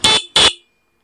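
A stock car horn sounds two short, loud honks in quick succession, close and clear, followed by silence.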